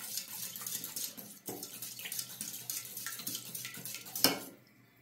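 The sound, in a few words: whisking lemon, yogurt and egg in a bowl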